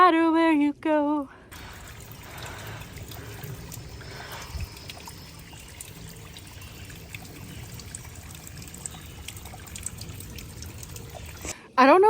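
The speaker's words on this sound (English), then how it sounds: "to see water literally coming from the stone" Water trickles from a stone beside the Appalachian Trail, a soft, steady dribble and splash heard close up for about ten seconds, with a brief bit of speech at the start and end.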